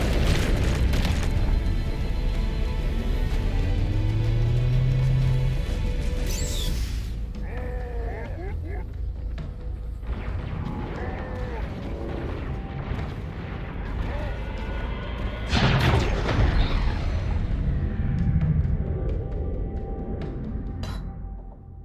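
Heavy gunfire and explosions in the Halo: Campaign Evolved campaign on Xbox, booming blasts and rattling shots over a dense game mix, with someone talking over it at times.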